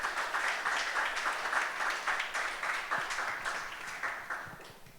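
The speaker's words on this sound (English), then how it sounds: "if you could just have a round of applause for Kavita" A crowd at an International Women's Day session applauds steadily, with dense overlapping claps holding a constant level before gradually thinning out, with no speech over them.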